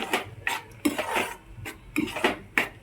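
A spoon repeatedly scrapes and clinks against a pan while stirring thick lauki (bottle gourd) halwa mixed with dry fruits, in steady close strokes with no talking.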